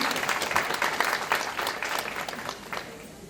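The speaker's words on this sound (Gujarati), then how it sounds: "આપણે સૌ તાળીઓના ગળગળાટથી એમનું સ્વાગત કરીશું" A crowd at a political candidates' event in Nadiad applauds, a dense burst of clapping that is loud at first and gradually thins out.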